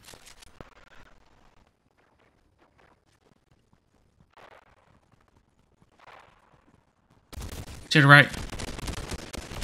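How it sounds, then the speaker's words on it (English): Gunfire in the Fortnite video game: a loud, dense burst of shots breaks out near the end after a long stretch of near silence with faint voices. "We got people shooting at us."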